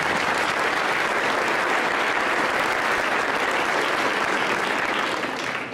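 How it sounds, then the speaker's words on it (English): Sustained audience applause fills a school spring music program for 5th through 12th grade students in Greeley County, a dense, even clapping from a large crowd that holds steady for several seconds before easing slightly at the end. "Would you give them another round of applause?"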